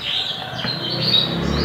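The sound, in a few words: wild sogok ontong bird calling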